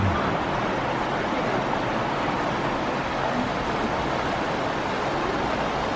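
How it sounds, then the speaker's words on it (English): A small babbling brook with little rapids in New England woods during autumn, heard as a steady, close rush of broadband water noise that keeps an even level without pauses. "I love the sound of the babbling brook."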